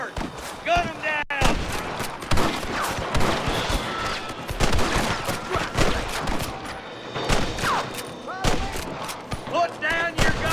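Rapid gunfire in Red Dead Redemption, with loud repeated rifle and pistol shots cracking in bursts, mixed with shouting voices.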